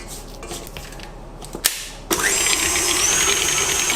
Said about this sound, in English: Whisk the butter and the sugar until it's creamy and pale in color